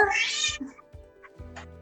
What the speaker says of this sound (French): c'est ton chat qui miaule là?